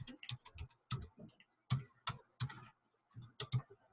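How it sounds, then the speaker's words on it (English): Someone types a password on a computer keyboard, a sparse run of close, crisp key clicks in uneven bursts with short pauses between them. "I'm going to type in my password."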